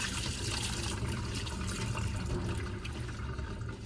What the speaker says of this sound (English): I'm going to rinse this for a little bit longer and let it dry.